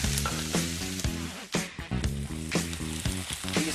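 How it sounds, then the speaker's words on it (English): Peppers and onions sauteing in bacon seasoning oil, with a steady sizzle and spoon strokes against the pan, all under background music with a clear beat. "Now I'm gonna add our peppers and onions. I'm gonna let it all saute down together."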